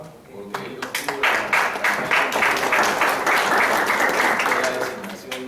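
Applause builds from scattered claps into a full round from an audience at a crisis management presentation, holding steady and fairly loud, with some voices underneath.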